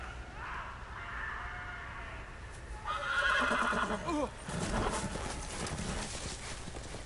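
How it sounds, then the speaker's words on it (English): A horse whinnies loudly, followed by clip-clopping hooves, against a steady low background hum in a Game of Thrones video game soundscape. "I have a horse now."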